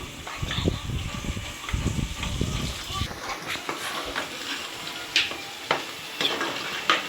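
Onions frying in a little oil in a pan for a Telugu-style fish curry, chapala pulusu, with a steady sizzle and scraping stirs that thin out into lighter crackles.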